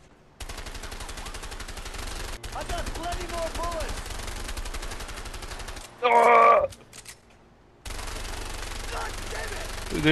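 Sustained automatic gunfire from the A Way Out video game, a continuous close rattle broken by a brief pause, a short loud burst with a shout, then the firing resumes.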